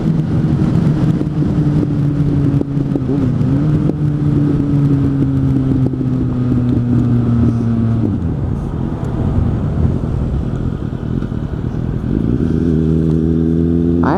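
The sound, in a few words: Suzuki GSF 600 N motorcycle engine revving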